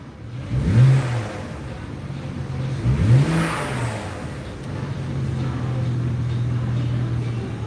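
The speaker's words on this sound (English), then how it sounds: "Give her a little pop rev here." A BMW 335i with the N54 engine, in for a water pump replacement, gets two quick blips of the throttle that rise and fall sharply, then settles back into a steady, loud idle. Nobody talks.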